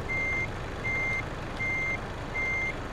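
Steady reversing alarm from a truck in Euro Truck Simulator 2, four evenly spaced high beeps over a constant engine rumble, clear and close.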